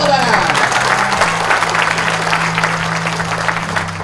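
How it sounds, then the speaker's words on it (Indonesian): A seminar audience claps together, a busy patter of many hands filling the room, with a low steady hum running underneath and a voice briefly present. "Ini, tepuk tangan"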